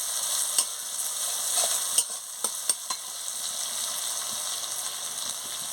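Spice paste frying in a pan with a little salt for a fish-head cabbage dish, a steady hissing sizzle broken by a few sharp clicks of stirring, with no voices.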